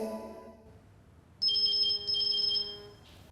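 A phone rings in a quiet indoor scene, giving two electronic trilling bursts that stop abruptly, with low background hum and no talking.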